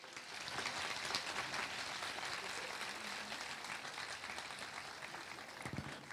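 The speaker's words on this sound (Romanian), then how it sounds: "vă invităm să aplaudați încă o dată reprezentanții studenților" An audience claps steadily and loudly throughout a medical faculty graduation ceremony at Ovidius University, the applause dense and continuous, tapering slightly near the end.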